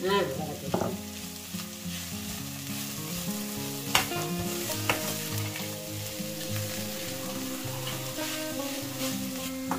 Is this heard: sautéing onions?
yes